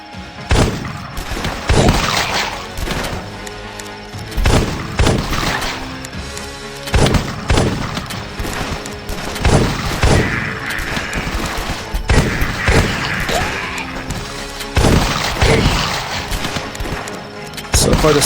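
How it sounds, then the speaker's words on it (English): A sawed-off shotgun fires at zombies in The Last Stand flash game, with loud, punchy blasts repeating every couple of seconds over a busy game mix. A voice talks over the shots. "The sawed-off is proving to be alright."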